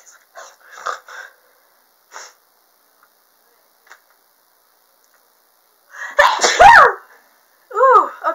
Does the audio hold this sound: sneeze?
yes